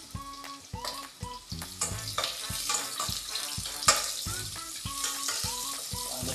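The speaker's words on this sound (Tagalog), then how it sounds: "Pakulahin nyo muna yung bawang." Garlic and onion fry in a pan for chicken liver adobo, a steady close sizzle under a faint musical tone pattern, without speech.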